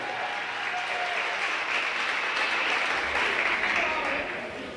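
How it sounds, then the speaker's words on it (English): Steady crowd applause fills a volleyball gym after a sophomore player is announced, continuous and fairly loud throughout with a PA voice faintly over it. "Put your hands together for number 5"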